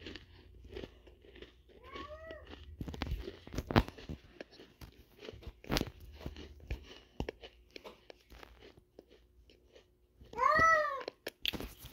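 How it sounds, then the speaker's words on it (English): A pet cat meowing indoors, one short meow early on and a louder drawn-out meow near the end, with crunching and scattered clicks between. "Sorry, it's my cat."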